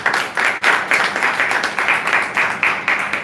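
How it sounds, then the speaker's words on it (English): Applause from an audience at a technical panel review meeting for a proposed tower development: steady, close, dense clapping with rhythmic surges, running continuously without talk. "Clap for them now."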